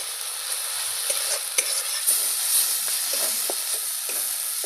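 Spice masala being stirred and fried in a pan while cooking chicken balls at home, with a steady close sizzle and hiss plus scraping stir strokes against the pan, no voices.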